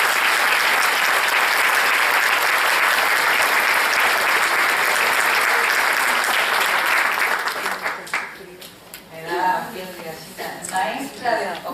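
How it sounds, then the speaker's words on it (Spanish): A dense, steady round of audience applause for a featured teacher fills about eight seconds, then breaks up and fades as a speaking voice takes over. "le damos un aplauso a Isabel"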